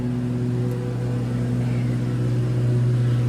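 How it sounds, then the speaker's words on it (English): A lawn mower runs outside at a distance, giving a steady, unbroken low engine drone with a faint hum that holds level throughout, with no talking. "sorry for the noise, my husband's outside mowing"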